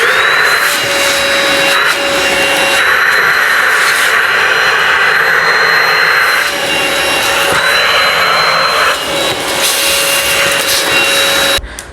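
Eureka Rapid Clean Pro cordless stick vacuum runs at a loud, steady whine while picking up crumbs, its motor pitch holding constant for about eleven seconds before cutting off at the end.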